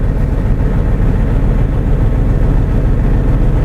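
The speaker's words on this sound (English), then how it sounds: "DPR manual regeneration will restart it. Now it's regenerating." A Hino diesel truck engine runs at a steady, loud, low rumble with no break during a DPR manual regeneration, close by and with no talk.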